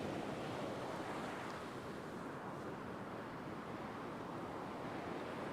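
Big, wild surf crashes and rolls continuously onto a beach where someone is surf fishing, a loud, unbroken roar of breaking waves mixed with buffeting wind against the microphone.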